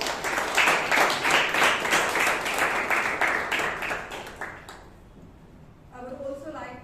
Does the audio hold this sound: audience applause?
yes